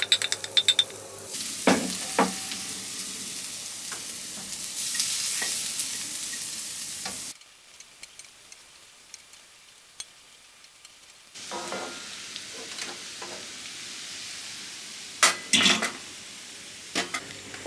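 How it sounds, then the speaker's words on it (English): Butter and garlic sizzle in a large pan over medium-low heat, a steady frying hiss with clinks of stirring. It fades to near quiet midway, then the sizzle and utensil taps return. "In a large pan, add the butter and garlic. Cook them on medium-low heat for 2 minutes."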